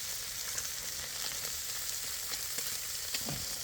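Corn smoked bacon fries in a pan with a dense, continuous crackling sizzle and scattered small pops, steady and close throughout.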